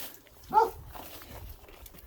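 One short, sharp dog bark near the start at a village house near Torres Novas, Portugal, then quieter background rustle and faint shuffling; moderately close.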